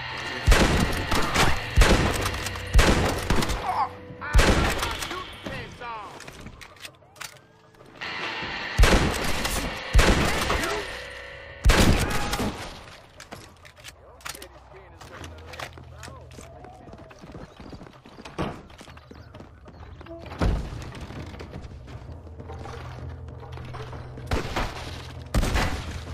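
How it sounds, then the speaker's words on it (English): Loud, sharp shotgun blasts ring out in Red Dead Redemption free roam at Fort Mercer, several separate shots spaced apart amid galloping hoofbeats and other gunfire, with someone talking over the action. "That was a shotgun indeed."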